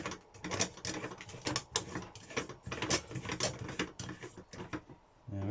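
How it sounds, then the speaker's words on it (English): A coffee maker lid being screwed on by hand, giving close, irregular scraping and clicking of threads turning in quick bursts, fairly quiet and with no talk over it. "And then screw on the lid."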